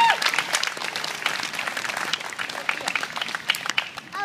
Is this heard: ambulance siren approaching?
no